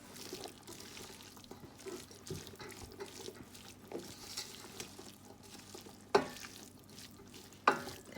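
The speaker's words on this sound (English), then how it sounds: "It's nice to mix in a wide pot or pan because you're gonna have all the room you need to mix properly." Vegetable fried rice with green onions is stirred and tossed in a wide pot, a steady soft scraping and rustling with faint sizzle and a couple of sharper clanks of the utensil near the end.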